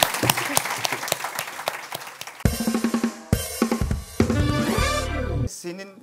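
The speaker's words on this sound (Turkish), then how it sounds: "alkışlıyoruz" A talk show studio audience claps in a brisk burst for a guest, soon joined and then overtaken by loud, punchy band music with strong rhythmic hits.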